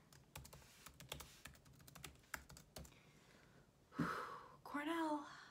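Quick close clacks of a computer keyboard entering a PIN, a burst of scattered keystrokes for about three seconds, followed by a sharp breath and a voice.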